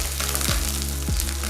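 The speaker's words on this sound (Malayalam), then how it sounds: "ഓയിൽ ചൂടായി കഴിയുമ്പോൾ ഇതിലേക്ക് 1 ടീസ്പൂൺ പെരിഞ്ജീരകം, 4-5 വറ്റൽമുളക്, 3-4 കറിവേപ്പില കൂടെ ഇട്ടതിന് ശേഷം നമുക്ക് നന്നായിട്ടൊന്ന് റോസ്റ്റ് ചെയ്തെടുക്കാം." Fennel seeds, dried red chillies and curry leaves roasting in hot coconut oil in a pan for a beef ribs curry: a steady, close, even sizzle and crackle with a faint low hum underneath.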